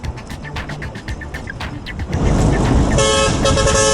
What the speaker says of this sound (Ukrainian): Але найбільше нас дратували водії, що сигналять без причини